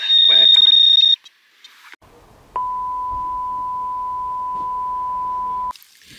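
A metal detector sounds its signal during a coin hunt: a loud high steady tone cuts off, then a lower sustained tone holds for several seconds before stopping abruptly.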